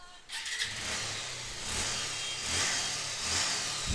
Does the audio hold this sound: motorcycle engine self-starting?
yes